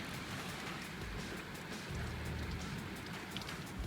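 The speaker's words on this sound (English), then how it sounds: "It is raining heavily." Heavy rain from a thunderstorm pours down steadily in a dense, unbroken hiss, close and loud, with a deeper rumble swelling partway through.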